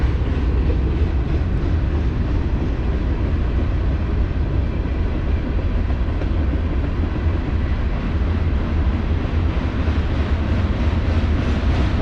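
A passing train on railroad tracks in Pittsburgh produces a loud, continuous low rumble with steady wheel-and-rail roar through the whole stretch and no voices.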